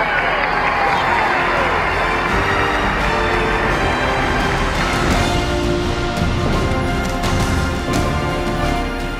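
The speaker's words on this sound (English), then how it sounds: "Listen to the crowd." Thousands of people gathered on VE Day with the King and Queen cheer together, a loud, continuous roar of a vast crowd heard from a distance on an old, noisy recording.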